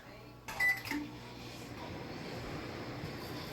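A microwave oven powered from a DIY power wall beeps a few times as it starts, then settles into a low, steady hum that runs quietly to the end.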